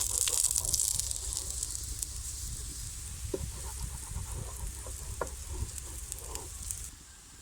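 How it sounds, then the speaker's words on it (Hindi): A radish paratha fries on a tawa with ghee, giving a steady close crackling sizzle that is strongest at first and settles slightly, with occasional small pops and scrapes. "अब मैं इसको तवे पे डालती हूँ। घी अप्लाई करते हैं।"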